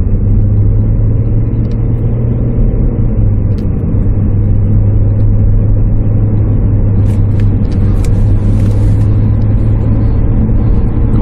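A Hyundai Grandeur TG 2.7 LPG car accelerating uphill, heard as a steady loud cabin drone and engine rumble with a constant low hum throughout, with a few faint ticks near the end.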